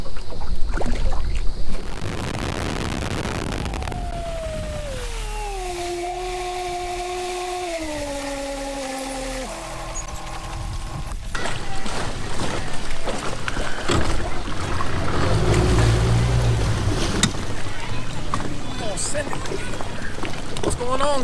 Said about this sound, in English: I got boats all around me